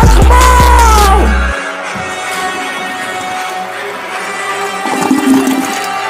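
A loud toilet flush opens a rap track, a rushing gurgle of water that fades within about a second and a half into the song's thumping beat and music.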